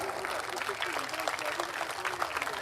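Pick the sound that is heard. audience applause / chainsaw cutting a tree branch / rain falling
audience applause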